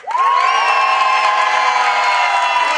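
A crowd at an outdoor street-theatre cabaret show in a park whistles and shouts, with loud, steady whistling riding over a sustained wash of cheering voices for the whole stretch.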